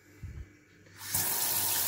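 A new Trendys kitchen mixer tap runs cold water: a short clunk of the handle, then a sudden steady rush into the sink that continues to the end.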